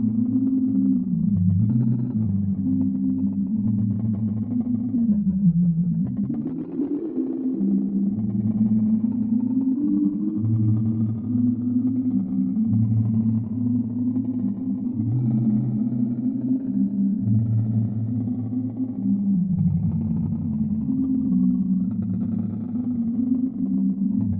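Strymon NightSky reverb pedal producing a pitch-shifted, octave-ranging ambient reverb drone, a sustained low, swelling tone with slowly shifting pitch and harmonics, steady and continuous with no talking.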